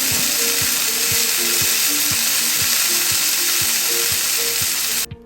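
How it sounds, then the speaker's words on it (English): Steak searing in a hot pan with olive oil gives off a loud, steady sizzle and crackle, with regular popping ticks throughout, before it cuts off abruptly at the very end. "If your steak doesn't sound like this"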